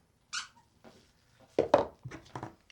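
A dog chewing on a squeaky chew toy, giving several short squeaks and whimper-like squeals in irregular bursts, close and fairly loud.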